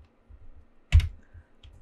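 A few keystrokes are typed on a computer keyboard, with faint light taps early on, one sharper cluster of key presses near the middle and a soft click at the end.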